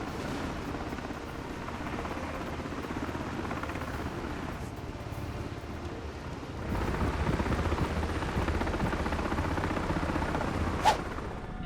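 Simulated MH-60 helicopter in Microsoft Flight Simulator, a continuous rotor and turbine drone that grows louder partway through, with one brief sharp burst near the end.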